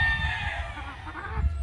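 A gamefowl hen makes a drawn-out clucking call at close range over a low rumble of background noise, with no one talking.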